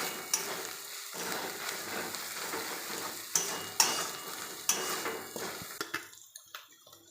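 Meat with spices is stirred in a frying pan for a green-pea meat ghugni, giving a steady sizzle with sharp spoon-on-pan clinks and scrapes, close and moderately loud, easing toward quieter frying at the end.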